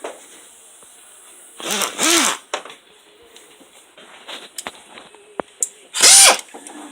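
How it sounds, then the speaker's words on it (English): An air ratchet runs a nut down tight on a new alternator mount in two short close bursts, then a third burst after a pause, with faint workshop clatter between. "we can go ahead and run that together real tight with the air ratchet"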